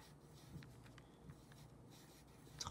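Soft, continuous scratching of a marker tip on paper while drawing flowers, quiet and close, with light strokes and small squeaks and no talking.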